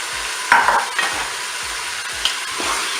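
Mushrooms frying in a Cookeo multicooker for mustard pork chops, a steady close sizzle with a utensil scraping and stirring through them a few times.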